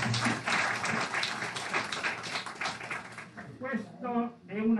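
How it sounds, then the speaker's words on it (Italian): Audience applause for author Francesco Mollica at the presentation of his book Tra i fauni corre voce, a dense patter of clapping through the first seconds, with a voice and laughter breaking in near the end. "facciamogli un applauso"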